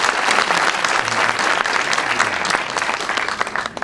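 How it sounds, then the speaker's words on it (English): Loud, sustained applause from a crowd at a university campus event, steady clapping filling the whole stretch without a break. "Let's give them a round of applause."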